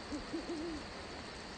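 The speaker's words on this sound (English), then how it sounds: "hooting owls" Owl hooting three or four soft, quick hoots in a short series, fairly close against a low, steady night background hiss.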